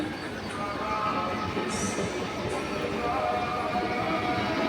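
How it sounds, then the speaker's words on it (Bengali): A local electric train passes at Baghajatin railway station in Kolkata, a continuous close rumble of wheels and carriages rolling by at a steady level. "এই আরেকটা ট্রেন আবার ওর পিছন পিছনে দেখুন যাচ্ছে এটা লোকাল"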